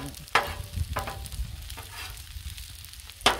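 Eggs and andouille sausage fry on a Blackstone griddle for Cajun fried rice, a steady close sizzle broken by a few sharp scraping stirs of a spatula, with no voices.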